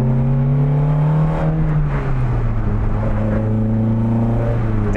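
A 1985 Honda Civic running on carburetors is heard from inside while driving, a loud, steady engine drone with shifting tone as revs change, continuous throughout.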